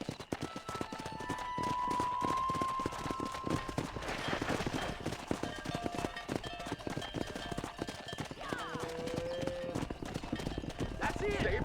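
In the Red Dead Redemption video game, horse hooves clip-clop in a fast, steady gallop close by, with a few whinnies and faint game sounds mixed in while people talk over it.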